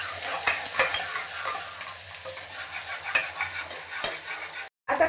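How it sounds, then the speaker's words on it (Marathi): Onion sautéing in hot oil for Kolhapuri misal gives a steady close sizzle with frequent stirring scrapes and a few sharp spoon clinks against the pan, and a brief silent gap near the end. "छान असं मऊसूत होईपर्यंत कांदा आपल्याला परतून घ्यायचा आहे।"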